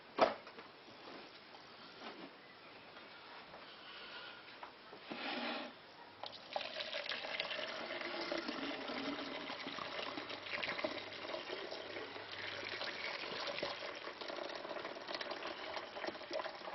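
An electric kettle jug heats water, a faint steady rushing hiss that builds after a soft click and continues evenly, quiet and close.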